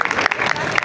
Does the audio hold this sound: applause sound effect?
yes